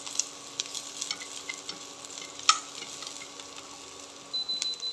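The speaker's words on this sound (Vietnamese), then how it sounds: "Rồi dầu nóng rồi mình cho tỏi vô ha." Garlic frying in hot oil in a home wok, a steady bright sizzle with scattered crackles and one sharp pop, stirred now and then with a few soft scrapes, and a faint clink near the end.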